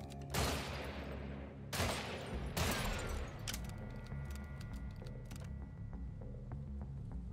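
A pistol fires in the video game Weird West: three loud, sharp cracks spaced over about three seconds, then fainter clicks and ringing tails fading into a quiet backdrop.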